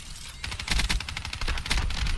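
Rapid automatic fire from the Dingo light machine gun in Black Ops 3, a steady stream of quick sharp shots continuing throughout at close range.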